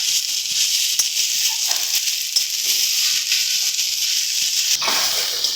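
Onion, chili and garlic frying in a pan over a low gas flame, giving a steady close sizzle and hiss with a few faint utensil taps and a brief stirring scrape near the end.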